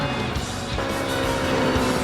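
A Mazda RX-7 race car with a high-revving rotary engine roars continuously in a racing video game, with tires squealing briefly near the start and the engine note holding loud and close throughout.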